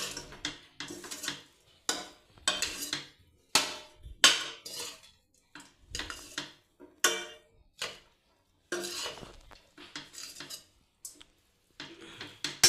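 Spoon scraping and clinking against a pan while capsicum masala rice is mixed with peanut powder, a run of irregular metallic taps and scrapes in short bursts with pauses, fairly close, no talking.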